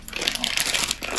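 Plastic packaging bag for a Monos Audio P903 copper audio cable crinkles and rustles continuously up close, with busy crackling throughout and no voices.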